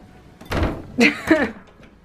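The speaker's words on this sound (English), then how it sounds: "This is how I'm gonna have to close my door from now on." An interior room door being pushed shut in a bedroom, producing a dull thunk followed by a couple of short knocking and latching sounds at close range, quite loud against a quiet background.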